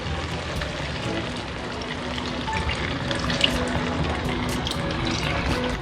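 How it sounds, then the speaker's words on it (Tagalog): Coconut milk pours into a cooking pot holding shrimp and crab claws, a steady broadband splashing and gurgling that runs continuously at moderate loudness. "Akin na pong ibubuhos po itong kakanggata."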